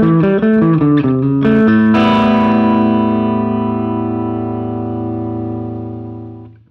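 An electric guitar played through a Boss DS-1 distortion pedal: a quick run of distorted notes followed by a loud sustained chord that rings out and slowly decays over several seconds, heavy and saturated, with no talking.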